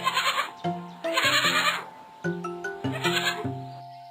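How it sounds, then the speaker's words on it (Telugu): A cartoon baby goat bleats on a train track, giving several loud, close, wavering bleats in quick succession with short pauses between them. "అరే అరే, ఇది మేకపిల్ల."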